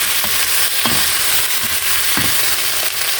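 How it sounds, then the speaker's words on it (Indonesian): Chicken feet stir-fried in cooked spice paste in a pan give a steady loud sizzle, with a few scraping stirs of the spatula breaking through now and then. "Kita masukkan cekernya. Nah, kita tumis."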